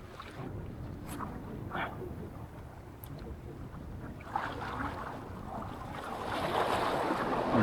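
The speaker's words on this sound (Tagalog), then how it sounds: "Yung alon ngayon mga master." Surf breaking along the shore while fishing with lures in murky, high water, a steady broadband wash of waves with wind noise on the microphone, building louder toward the end.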